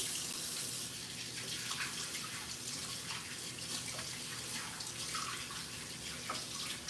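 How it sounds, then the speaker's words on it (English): Tap water runs steadily as hands are washed under it, a continuous close splashing hiss with small irregular spatters throughout and no talking. "I'm washing my hands because they smell like garlic and onion."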